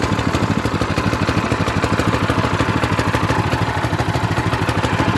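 A Predator 6.5 horsepower small engine, burning a little oil and shaking, idles close by with a steady, fast, even chugging pulse that holds throughout, with no voices over it.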